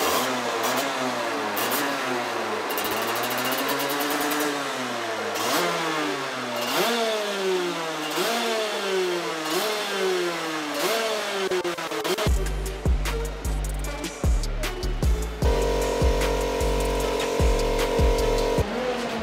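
A racing kart engine at a FIA Karting World Championship event revs repeatedly while warming up, loud rising and falling whines close by, then a rougher, steadier idle with sharp blips toward the end.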